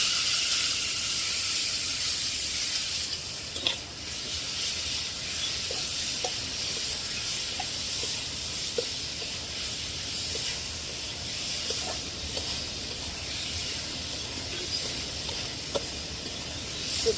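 Yardlong beans with steamed potato, fried onion and a little turmeric sizzle softly in oil in a pan, a faint steady hiss broken by scattered light clicks of stirring, with no voices.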